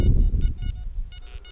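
A metal detector gives a few short, faint electronic beeps while sweeping a farm field, heard over low rumbling wind noise.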